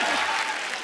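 Brief burst of audience applause welcoming singer Sudesh Bhosale on a television comedy show, a dense steady wash under a faint sustained musical tone, under a second long.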